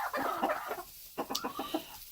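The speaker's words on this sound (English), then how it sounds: "Icelandic chickens." Several short, soft clucks and murmurs from Icelandic hens in an uneven sequence, close by, with a brief pause partway through.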